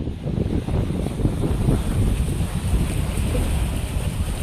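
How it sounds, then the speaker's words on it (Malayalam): Strong wind gusts across a boat jetty on the Perumbalam backwaters, roaring steadily and buffeting the microphone with a low rumble, while faint water movement sits underneath; no one speaks. "നല്ല കാറ്റ് ഇവിടുന്ന് അടിക്കുന്നുണ്ടേ."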